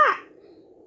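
Single bird caw from a Melon Playground video game, a short harsh call that fades quickly into a faint trailing tone, heard alone and close.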